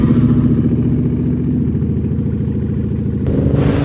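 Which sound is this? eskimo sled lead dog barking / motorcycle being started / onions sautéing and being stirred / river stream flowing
motorcycle being started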